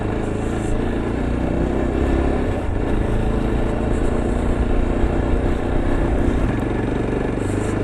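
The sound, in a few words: motorcycle riding over a rocky mountain road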